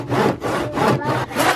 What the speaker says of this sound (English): This is the dullest handsaw I've ever used.